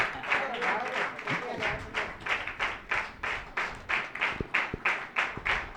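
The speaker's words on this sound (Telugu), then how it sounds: "కొట్టండి గట్టిగా చప్పట్లు." An audience claps in a steady, even rhythm at a gathering. The claps are close and fairly loud, with faint voices underneath.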